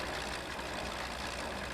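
Tractor engine idling in the Farming Simulator 15 video game, a steady, even mechanical drone that holds close and constant throughout with no talk over it.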